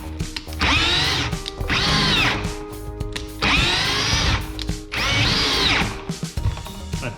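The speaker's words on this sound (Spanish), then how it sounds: "ya metiéndolo en modo taladro, que ya es el máximo modo taladro, ya es el máximo nivel de apriete" A power drill set to its maximum drill mode drives a screw through stacked melamine, pine and MDF boards in four loud, whining, straining bursts separated by short pauses. No talking is heard.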